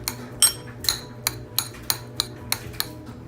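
Utensil repeatedly clinking against a bowl while ingredients are mixed together, about eight sharp taps in a fairly steady rhythm, close and moderately loud, with no talking.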